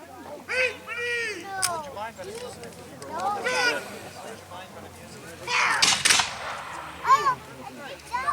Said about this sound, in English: he's about to give them the chance to put the volley on the Americans